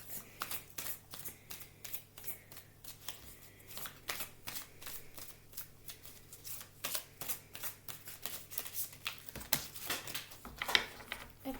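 Tarot cards are shuffled close by in a rapid series of crisp riffling and slapping bursts that repeat steadily, quiet overall and with no talking.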